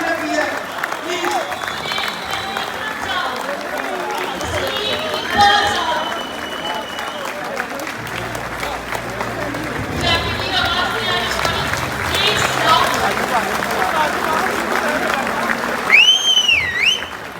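An audience at a TCS ceremony honouring long-serving courier staff applauds in a sustained, dense wash of clapping, with voices and cheering mixed in throughout and a whistle near the end.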